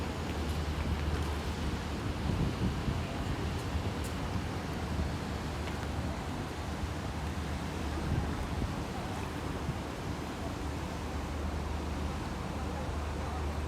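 A tour boat on the Seine near the Eiffel Tower, its steady low engine rumble and wash of water mixed with wind buffeting the microphone, continuous and fairly loud throughout.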